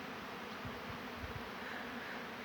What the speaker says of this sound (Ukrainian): бджола працює